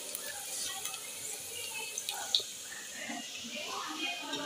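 Onions sizzling in hot oil in a home kitchen, the start of a lentil dal soup, give a steady, quiet frying hiss with faint crackles and one brief sharper pop.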